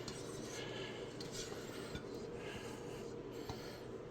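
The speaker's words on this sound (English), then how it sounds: "I got a little spatula here, so if we wanted to, we could get every little bit that we can" A small spatula scrapes leftover potato au gratin from a baking dish, giving faint, close rubbing and scratching strokes with a few light clicks against the dish.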